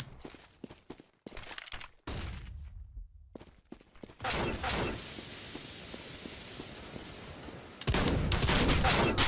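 Gunfire in the mobile shooter game CSGO Mobile, with sharp bursts and loud blasts, dense crackling stretches and dropouts between them, close and harsh, with a player's voice occasionally mixed in.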